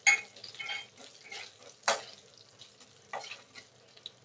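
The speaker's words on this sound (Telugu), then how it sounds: "రెడీ చేసి పెట్టుకున్న ఆవాలు, జీలకర్ర, వెల్లుల్లిపాయలు కొంచెం సిమ్లో పెట్టుకోండి" Mustard seeds, cumin and garlic fry in oil over a low flame for sambar, giving a faint, soft sizzle with a few light utensil scrapes and stirs.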